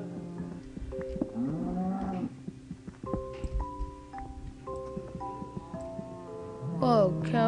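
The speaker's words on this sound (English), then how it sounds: "Oh, cow, go away. Go. Shoo. Domestic cows." Cows in the Minecraft video game give a few low, drawn-out moos at intervals, mixed with someone talking over game sounds.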